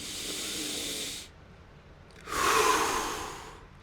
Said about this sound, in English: So you could take a deep breath, like